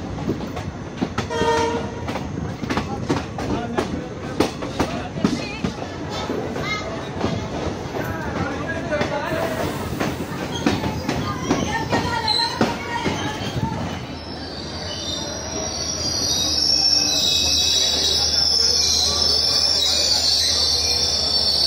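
Nandigram Express running along the track, a steady rolling rumble with rhythmic wheel clatter through the first half, then a smoother, higher hiss and whine of the carriages as the run settles in, heard from on board.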